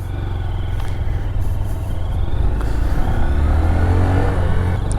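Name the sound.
2022 Honda Grom motorcycle with stock exhaust pulling away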